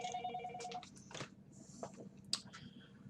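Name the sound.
telephone ringing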